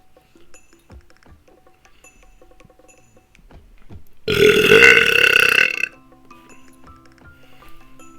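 A single long, loud burp of about a second and a half rises from a quiet room with faint background clatter, done as a swallowed-air burping technique.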